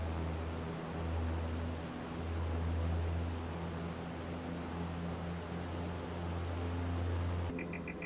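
Steady engine drone of an airplane flying in Microsoft Flight Simulator 2024, a constant low hum with a mild rise and fall in loudness, heard alone without talk.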